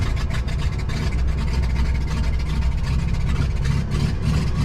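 An Aerostar 700 twin-engine aircraft engine runs after starting, a loud, steady low-pitched drone with a rough mechanical rumble that holds at constant level throughout.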